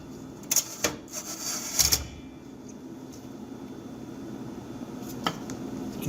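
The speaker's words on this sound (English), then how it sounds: "You can see the motor's trying to move." A GE dishwasher that only fills with water and won't wash or drain, its motor straining to run with a low steady hum under a few sharp clicks and clatters at the start.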